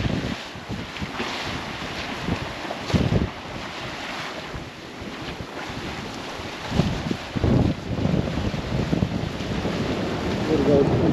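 Strong gusty wind roars across an open outdoor spot under a storm cloud, buffeting the microphone in rising surges with rough water washing in the background.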